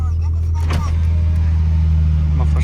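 A 1999 Nissan Skyline GTT idles steadily, and a low, even exhaust rumble comes through the muffler up close.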